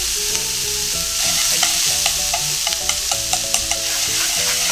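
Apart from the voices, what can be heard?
natto and paprika stir-frying in a pan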